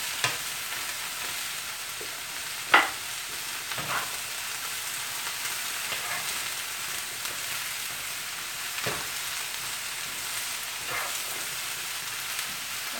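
Rice being stirred in a pan during a stir fry, a soft constant sizzle broken by a few sharp scrapes and clicks of the utensil, fairly quiet and close with no talking.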